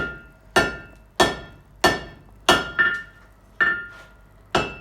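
Cross peen hammer blows ring out on leaf spring steel being forged into a spear head, seven sharp metallic strikes at an even, unhurried rhythm, close and loud with short decaying rings.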